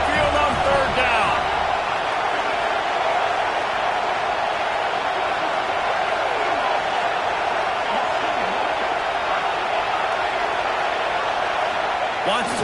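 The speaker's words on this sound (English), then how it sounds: "The Tide crowd rolling noise down onto Saban Field on 3rd down." Roaring stadium crowd noise on third down in a college football video game at Saban Field, a dense, steady wash of sound held for the whole stretch with commentary voices over it.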